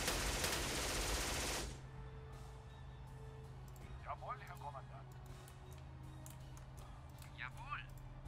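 A loud burst of massed gunfire opens a World War II game battle involving the 21st Panzer Division at St. Pierre du Fresne, cutting off sharply after under two seconds, then quieter ambience with faint distant voices and radio chatter.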